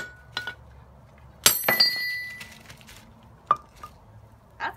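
Chisel prying pieces of lava rock veneer loose, a few sharp stony clinks and cracks with one brighter crunching snap in the middle, close by and alone.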